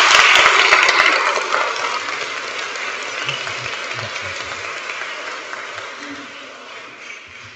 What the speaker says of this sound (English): Give Sartaj a big round of applause,